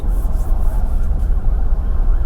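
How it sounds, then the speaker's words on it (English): A loud, steady traffic roar from a slowed Atlanta highway with a faint siren wail rising and falling in the background, continuous with no talking. "I hear sirens."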